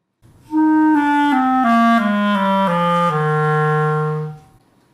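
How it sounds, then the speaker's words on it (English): A clarinet plays a slow descending run of notes, more fingers down for lower pitches, stepping lower and ending on a long low tone, solo and close. "gets longer and creates lower sounds like this"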